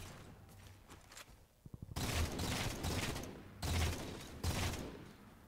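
Rapid bursts of pistol gunfire in Halo 4 multiplayer, several loud clustered volleys of shots separated by brief pauses, with scattered quieter impacts before the first burst.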